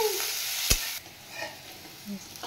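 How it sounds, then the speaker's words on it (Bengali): Spices frying in hot oil with turmeric and salt are stirred in a pan, a steady sizzle with a brief scrape near the start, then quieter sputters. "এবার নেড়ে নাও"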